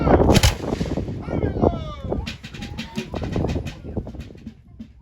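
Cannon fire at a battle reenactment for Carolina Day in Charleston, South Carolina: loud, booming blasts open the clip and are followed by more reports. Crowd noise and a nearby narrating voice run underneath.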